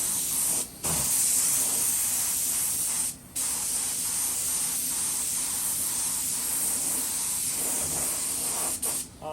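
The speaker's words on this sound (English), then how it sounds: "We've got the pressure turned right down, and we're just putting a very, very light coat of silver on." A spray gun set to low pressure lays a very light coat of silver paint on the headlights of a 4x4, making a steady close hiss that stops briefly twice and then resumes, with no talking.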